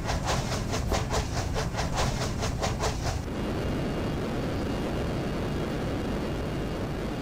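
Train on the move in F-22 Total Air War, with a rhythmic clatter of wheels that stops about halfway through and leaves a broad, steady rushing roar of rail and air noise.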